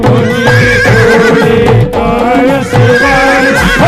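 A horse neighs loudly and repeatedly, its whinnies rising and falling over a busy, dense musical backdrop with faint clip-clop-like beats.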